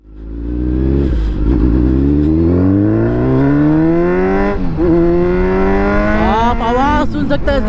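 A Kawasaki Ninja Z900 naked motorcycle's engine revs hard through the gears at high RPM, its pitch climbing steadily to a high whine with brief drops at each shift, loud and close.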